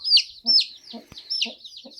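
Close, clear clucking and high-pitched peeping from a grey mother hen with her growing chicks, the chirps arriving in regular bursts with a sharp click partway through.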